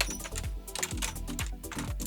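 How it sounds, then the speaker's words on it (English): Rapid, close keystrokes on a quieter computer keyboard, a steady flurry of soft clicks with no talk over them. "I'm going to switch to a quieter keyboard"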